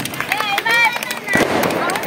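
Parents clap for their children at a ward-level children's games event in Raichur, a rough crowd of applause rising in the second half beneath an announcer speaking loudly over a speaker system.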